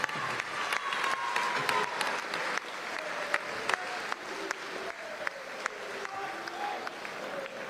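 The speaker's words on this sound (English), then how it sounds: "may we please have a round of applause to these two fighters." Crowd applause fills the arena after a twelve-round British flyweight championship boxing bout, a sustained roar of clapping with sharp individual claps standing out and a faint voice underneath, holding steady throughout.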